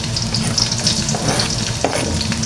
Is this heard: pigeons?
no